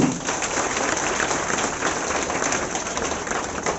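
Loud, steady applause from an audience at a ceremony honouring student board exam toppers, a dense wash of many hands clapping continuously with no voices on top.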